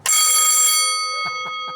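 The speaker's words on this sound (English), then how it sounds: "It's the bell that used to ring when the trains were coming into the station." A loud, bright old railway station bell in Middelburg, Mpumalanga, South Africa strikes once and rings on with a long, slowly fading metallic tone, overtones shimmering; a few soft taps follow.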